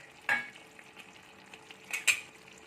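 Pork curry with green and red bell peppers being stirred in a pan: a couple of distinct scraping clinks of a utensil against metal over a quiet, low background sizzle.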